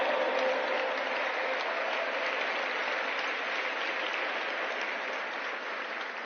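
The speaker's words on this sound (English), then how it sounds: "Please put your hands together and give a big round of applause, my friends." An audience gives a round of applause after Dr. Gunnar Diop's address, a sustained wash of many hands clapping, even and fairly distant, with no voices above it.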